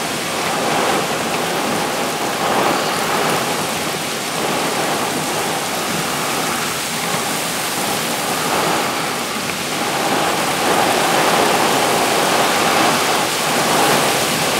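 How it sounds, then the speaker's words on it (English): Heavy, roaring downpour pours down continuously, a dense and loud wash of rain with no break and no voices. "That ain't fog, people. That is torrential rain."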